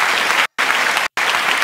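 Audience clapping in a studio setting, a dense steady wash of many hands, loud and close, broken by two very brief dropouts.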